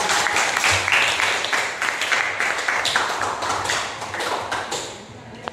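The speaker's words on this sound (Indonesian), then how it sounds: "Baik, beri aplaus untuk semuanya" Classroom applause: a room of students clapping together, dense and loud at first, then thinning into scattered claps and fading toward the end, with faint voices underneath.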